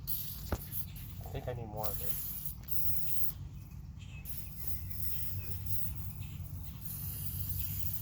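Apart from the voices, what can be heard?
aerosol spray being sprayed on rusty car door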